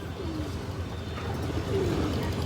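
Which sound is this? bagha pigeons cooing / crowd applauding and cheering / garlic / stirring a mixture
bagha pigeons cooing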